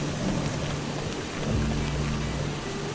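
Steady rain pours through a storm in the fantasy role-playing game Eschalon: Book II, with a deep rumble of thunder rolling in about halfway through, loud and continuous with no talking.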